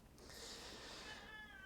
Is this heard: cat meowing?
yes